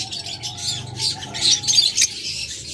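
A pair of violet opaline pet birds with clear heads and no masking chirp in a cluster of quick, bright tweets and squeaks at moderate distance, over low background noise.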